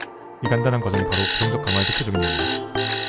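An alarm clock rings in repeated bright, electronic melodic bursts, loud and close, while a person speaks over it.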